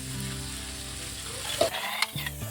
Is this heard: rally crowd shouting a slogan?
no